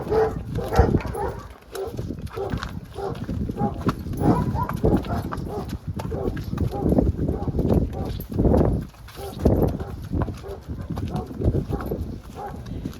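A mare's hooves clop on the ground as she is led outside at a horse sale, the footfalls mixed with people talking nearby and a dog barking occasionally.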